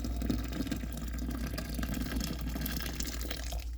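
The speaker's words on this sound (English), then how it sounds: "get this chocolate bowl washed out." Hot water pours steadily into a bowl coated with melted chocolate, a close, even rushing splash lasting several seconds without pause and without speech.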